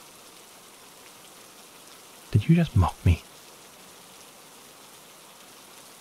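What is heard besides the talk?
rain falling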